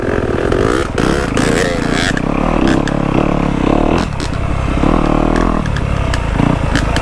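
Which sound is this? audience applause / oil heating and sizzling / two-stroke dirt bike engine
two-stroke dirt bike engine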